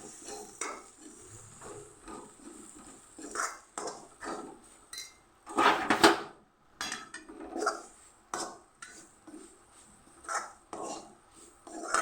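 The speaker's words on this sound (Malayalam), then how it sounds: "ഇനി എല്ലാം കൂടി നന്നായി ഒന്ന് ഇളക്കി കൊടുക്കുക." Chicken curry stirred in a pan with a spoon, heard as intermittent scraping and clinking strokes that come in short bursts, close by and fairly quiet, with no voices.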